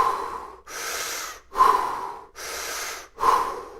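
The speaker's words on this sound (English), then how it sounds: "we're going to breathe in and out of our mouth" Three deep Wim Hof-style breaths drawn in through the mouth, each a loud rushing inhale followed by a softer exhale, close and steady in a regular rhythm.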